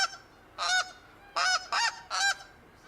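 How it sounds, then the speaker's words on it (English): Snow goose honking in the hunting game theHunter: Call of the Wild, Askiy Ridge map: four distinct nasal honks, one alone then three close together, clear over a quiet background. "Sound like a goose to me."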